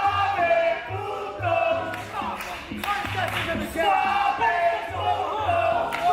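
A wrestling crowd at an FSW show jeers and boos the Suavecitos, a loud, swelling mass of voices with shouts rising and falling over a steady roar.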